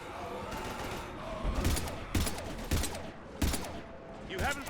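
Gunfire in the video game Mass Effect 3, with repeated sharp shot bursts at irregular intervals, loud and close, over continuous battle noise and shouting voices.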